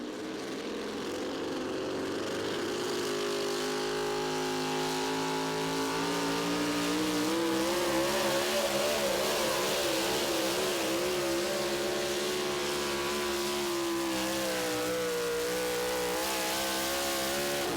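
Pickup truck engine roaring continuously during a truck pull run at the Tomah, Wisconsin event, loud and sustained with rising and wavering pitch.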